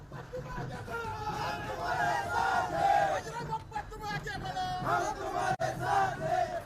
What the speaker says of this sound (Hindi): बीजेपी और एनसीपी शरद पवार दोनों ही पार्टियों की कैंपेनिंग में जोरदार भीड़ उमड़ रही है